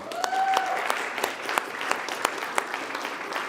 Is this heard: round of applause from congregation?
yes